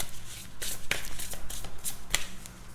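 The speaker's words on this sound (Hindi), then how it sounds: "Let's pull some more cards." Tarot cards are shuffled and pulled by hand, giving a run of soft papery riffles and a few sharp card snaps, close and fairly quiet, with no talk over them.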